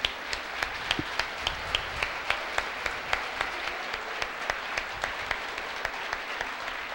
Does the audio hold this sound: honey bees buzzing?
no